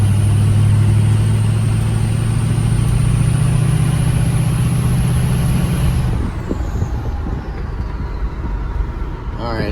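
A Ford PowerStroke diesel with a fuel delivery issue accelerates with a loud steady drone and a high whine, then the engine note falls away after about six seconds into a rougher, uneven idle.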